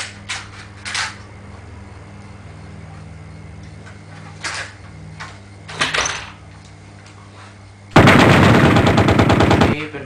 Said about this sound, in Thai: ทีนี้เราก็มาเริ่มต้นการยิงเลยนะครับ